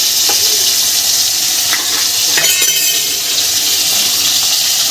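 Garlic boils in a pot of water in a home kitchen while fish curry cooks nearby, a steady, dense bubbling hiss running continuously throughout with no talking.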